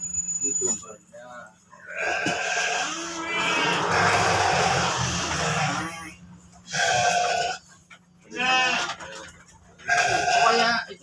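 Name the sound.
sheep bleating on a farm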